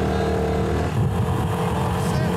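A Vespa scooter engine drones steadily as riders pull away through city streets, with voices talking over the motor.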